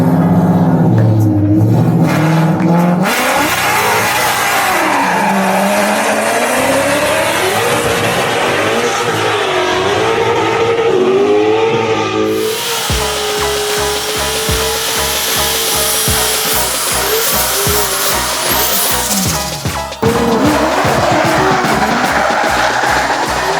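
Drift cars run at a drag strip, with loud engines revving and rising in pitch through the gears. A car launches and pulls away, followed by more close, roaring acceleration and rapid pulsing exhaust.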